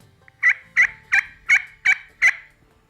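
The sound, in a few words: turkey yelp on a slate call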